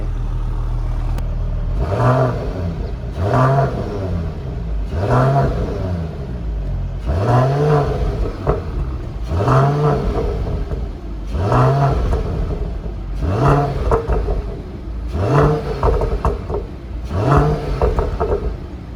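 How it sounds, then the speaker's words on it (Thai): A 2021 Mercedes-AMG CLS 53 engine revved repeatedly, about eight loud rising blips at a steady rhythm over a low idle rumble, close by with no talking. "กดเร่งให้ดูว่ามันจะ เสียงดีขนาดไหน"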